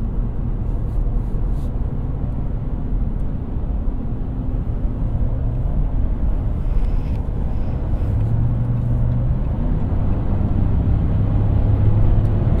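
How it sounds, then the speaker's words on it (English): Steady low road roar and tire noise from a 2024 Ram Rebel pickup with a V8 engine accelerating onto a highway, a constant loud rumble throughout with no talking. "Let's merge onto the highway. Because normally these tires will be loud, but I'm gonna let y'all see what y'all hear with your own ears."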